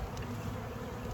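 Honey bees from a package install buzz in a dense, continuous drone close by, steady and unbroken through the short moment with no talk.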